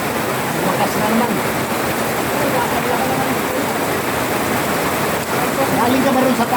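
Heavy rain from Typhoon Carina pours down in a dense, steady hiss that continues unbroken, with faint voices under the downpour.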